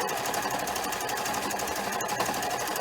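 A sewing machine stitches a seam between quilt blocks made from charm squares, running in a fast, continuous mechanical rattle at a steady pace.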